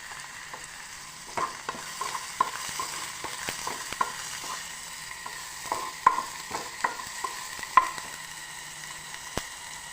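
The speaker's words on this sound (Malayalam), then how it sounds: "വെളിച്ചെണ്ണ ആഡ് ചെയ്ത് ഈ എണ്ണ ഒന്ന് ചൂടായി വരുമ്പോഴത്തേക്കും നമുക്ക് ഇതിലേക്ക് അരിഞ്ഞു വെച്ചിരിക്കുന്ന നമ്മുടെ കൊച്ചുള്ളി ചേർത്ത് കൊടുക്കാം" Chopped shallots frying in hot coconut oil, a continuous close sizzle with frequent small crackles and pops scattered over ten seconds, no voices.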